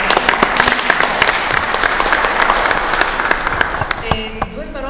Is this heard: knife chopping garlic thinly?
no